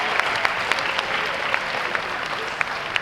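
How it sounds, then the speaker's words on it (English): An audience at a school Credit for Life fair gives a round of applause, a dense, steady wash of many hands clapping together with individual sharper claps popping out, sustained evenly for the full stretch. "So if you could give them a round of applause"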